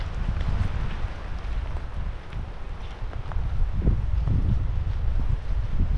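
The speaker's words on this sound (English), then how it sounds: "And the wind is coming out of the south after all, now that we're down on the south end." Wind from the south buffets a campsite in the San Juan Islands, a loud continuous low rumble and roar that gusts steadily across the whole stretch with no voices.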